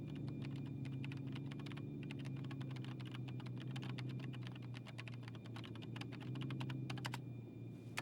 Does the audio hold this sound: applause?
no